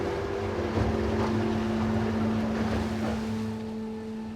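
An excursion motorboat engine drones steadily on open ocean off Port Campbell, Australia, with wind and wash from the sea blending into the constant hum.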